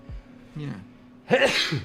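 A single sharp sneeze bursts out loudly near the mic during a live digital drawing stream, preceded by a brief spoken word.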